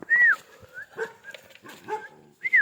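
Dogs yelp and whine in short bursts, a couple of high whimpers among scattered barks, fairly close with quiet gaps between.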